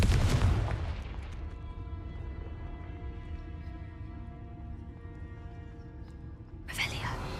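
An explosive Confringo spell cast in a video game, a heavy blast at the start that fades into a long ringing, humming decay before a second burst hits near the end.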